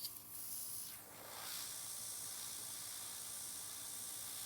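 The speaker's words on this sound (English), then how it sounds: "And I'm spraying on the top." An Airnails airbrush sprays nail polish onto a nail at a workshop, a steady soft airy hiss that swells slightly and runs continuously, close and fairly quiet, with no talking.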